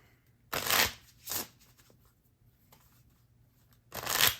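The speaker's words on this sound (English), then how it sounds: "so I have to draw another card" Playing cards shuffled and drawn from a deck: a loud riffle, a shorter second burst, then a quiet pause and a final riffle, heard close in a quiet room.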